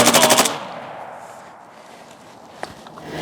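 An FB Radom Beryl rifle fires one short, fast automatic burst of sharp, loud shots that ends abruptly, followed by quiet with a faint click near the end.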